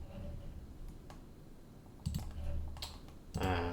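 A computer keyboard being typed on in scattered short bursts, with a few clicks and a denser clatter at the end, close and moderately quiet.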